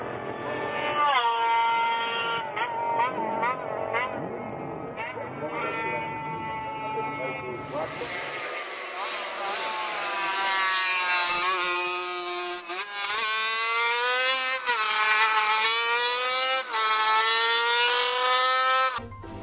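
A 1960s Honda RC166 four-cylinder racing motorcycle with no silencer screams at high revs close by, its pitch repeatedly rising and falling in sharp blips, growing louder and brighter midway through.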